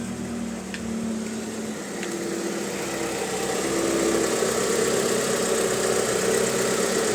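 A Mitsubishi 4G64S4M engine idles steadily, a continuous mid-pitched running hum with low vibration that grows slightly louder and rougher in the second half, heard alone and close.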